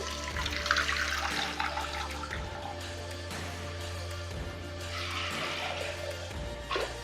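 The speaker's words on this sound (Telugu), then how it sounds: "అలాగే ఉడికించాలి అంటే వాటర్ వేసుకోవాలి కాబట్టి" Water is poured into a pressure cooker holding soaked green gram for a curry: a steady, close splashing flow that runs through the whole span over a low background hum.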